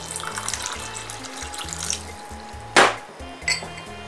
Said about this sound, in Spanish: Le vamos a poner aquí también lo que es ah, media tacita de agua